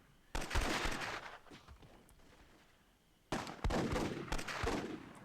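Gunfire in a 2-on-2 WWII gunfight in Myth II Soulblighter: two dense bursts of rapid shots, the first around a second long and the second stretching about two seconds, with a quieter gap between them.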